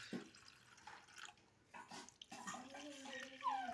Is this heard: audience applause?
no